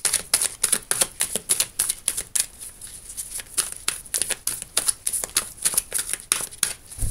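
A deck of tarot cards being shuffled and cut, a rapid run of crisp riffling snaps and slaps close up, continuous with short pauses.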